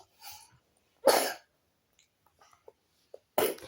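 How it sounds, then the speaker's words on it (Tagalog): A child coughs in a few separate bursts, two of them harsh and strong, with quiet breathing and small sounds in the gaps. "Yung ubo niya."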